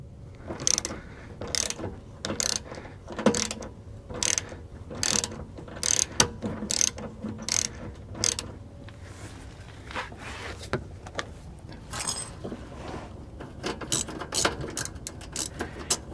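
Hand ratchet clicking in bursts while removing two 13 mm bolts from a rusted GM exhaust muffler bracket with rubber insulator on a Cavalier, reached from behind the rear wheel with an extension; close, repeated short clicking strokes with brief pauses, no talk.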